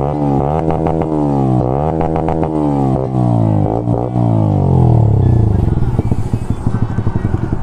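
Bajaj NS 125 motorcycle fitted with an Austin Racing full system exhaust, revved up and down repeatedly with rising and falling engine pitch, then settling into a crackling, popping idle, loud and close.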